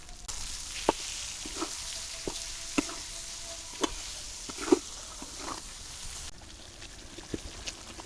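Potatoes sautéing in a pan with tomato paste, turmeric, chili powder and salt, a steady soft sizzle broken by clicking stirs and scrapes of a spoon, close and fairly quiet.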